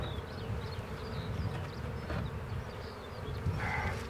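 Italian honeybees swarm around an open beehive, producing a close, steady drone of buzzing wings that hums on without pause, with individual bees passing nearer now and then.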